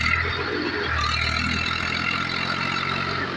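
A tractor engine runs steadily while the tractor sits stuck in a field during the paddy harvest haul. The engine drones at a constant level, close and continuous, with no voices.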